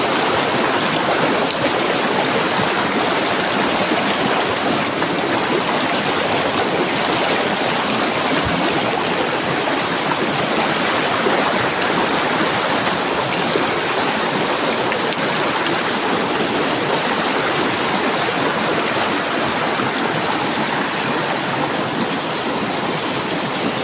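A flowing stream (sapa) rushes loudly and steadily nearby, a dense broadband wash of water that never lets up, with no voices over it.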